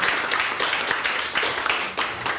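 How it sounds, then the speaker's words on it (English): Applause from an evening audience at a café bistro event, a dense, steady patter of many hands clapping throughout with no pause. "Let's give them a round of applause."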